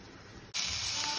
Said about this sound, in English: that's why we have to fry it in the pan today